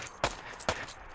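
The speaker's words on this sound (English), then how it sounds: "I'm running towards the gunshot" Two sharp gunshots about half a second apart ring out in the World War II shooter Hell Let Loose, each a loud crack with a short decay over a low battlefield ambience.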